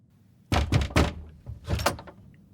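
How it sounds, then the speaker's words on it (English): Knocking on a door in an audio drama set in ancient Jerusalem, a series of loud, close raps in two quick bursts with a short pause between them. "And then yet another person started knocking at my door."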